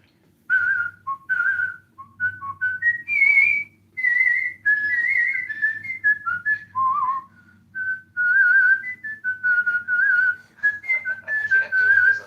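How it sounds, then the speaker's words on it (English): A person whistles a lively melodic tune through the teeth, clear and close, with short bright notes and brief pauses between phrases against a faint low background hum. "Can you whistle through your teeth?"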